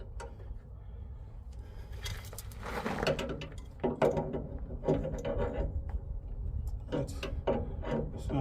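A hand ratchet clicks in short uneven bursts while tightening a lock nut on a truck brake chamber clevis, the clicks close and fairly quiet with brief pauses between strokes.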